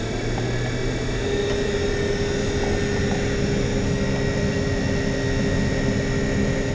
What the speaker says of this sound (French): On va rajouter un petit peu de gaz.